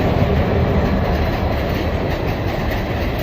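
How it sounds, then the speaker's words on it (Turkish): A train running on the Malatya–Gölbaşı–Narlı–Nurdağı railway line, reopened after earthquake damage, rumbles loudly and steadily up close for the whole stretch with no speech. "Yaklaşık 3 yıl boyunca sessizliğe bürünen hatta tren seferlerinin başlamasıyla birlikte yeniden hareketlilik yaşandı"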